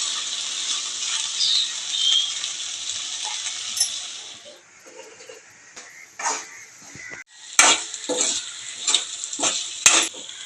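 Okra (bendakaya) frying in a pan in village-style cooking, a steady sizzle with scraping stirs and occasional clinks of the spatula against the pan.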